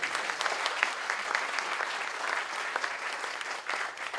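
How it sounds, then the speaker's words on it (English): An audience gives a round of applause at a 9/11 diversity gathering: continuous, moderately quiet clapping from many hands, with no speech over it. "Let's give another round of applause for that."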